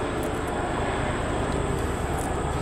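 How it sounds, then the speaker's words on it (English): A Chinook twin-rotor helicopter flying overhead at an outdoor shooting range: a steady, loud, broadband rotor roar that holds evenly throughout. "Got a Chinook overhead. That's the dual rotored one"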